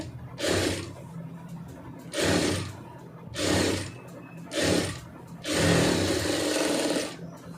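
Sewing machine stitching a seam on a plain blouse, running in five separate bursts of whirring needle noise with short quiet pauses between them, close and fairly soft.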